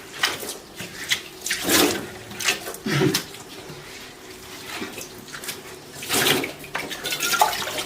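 Water running and splashing into a steel kitchen sink during washing, bursts of gushing flow that rise and fade in irregular surges, close and fairly loud.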